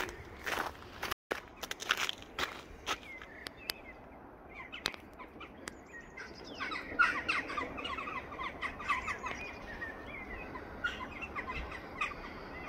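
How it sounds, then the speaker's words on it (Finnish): Birds whistling and chirping on a spring morning, scattered calls at a distance that grow busier and more layered midway, mixed with footsteps and occasional sharp clicks outdoors. "Kovaa vislausta pitää linnut."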